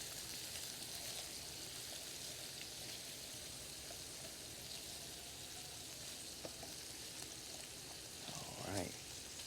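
Salmon pieces and shrimp sear in a hot pan with a steady, even sizzle that runs throughout, and a brief scrape or clatter comes near the end.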